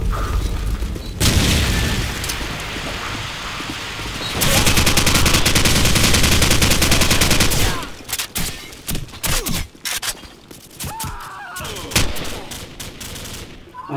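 In Call of Duty 4, a frag grenade blast and bursts of automatic gunfire crack out loud, then give way to scattered sharp shots and mechanical clicks.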